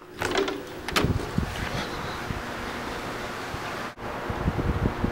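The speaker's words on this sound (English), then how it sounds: "it is super nice out, but the wind is ridiculous" Strong wind buffets the microphone outdoors, a constant loud rushing roar with rustling gusts and one brief dropout.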